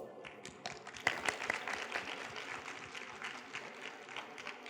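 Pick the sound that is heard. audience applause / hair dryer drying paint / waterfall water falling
audience applause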